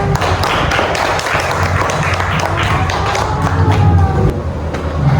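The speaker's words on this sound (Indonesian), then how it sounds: "Ayo tepuk tangannya untuk temannya." Students in an Indonesian classroom clap for a classmate, a loud, dense patter of many hands with some thuds and crowd noise running steadily throughout.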